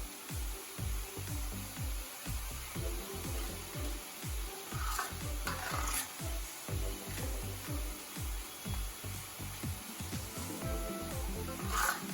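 Boondi batter pressed through a ladle into medium-hot oil makes a close, rhythmic pattern of soft repeated taps and scraping strokes over a faint background bubbling, the strokes coming in a steady pulse throughout.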